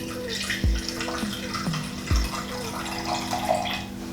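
Hot water from a coffee maker is poured into a measuring vessel to make simple syrup for a cosmopolitan, a steady splashing stream with a few brief clunks of the container over a low background hum.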